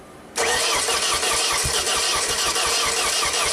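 A damaged JLG lift that sat for two years has its engine cranked over: near-silence, then an abrupt loud, continuous starter-driven churn with a steady rhythmic pulse that keeps going without catching.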